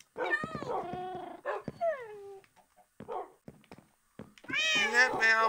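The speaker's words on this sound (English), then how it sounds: "You got all my cats up now." Several cats meow repeatedly in a Minecraft world, bright pitch-bending mews in clusters near and loud, with sparse clicks and brief gaps between bursts.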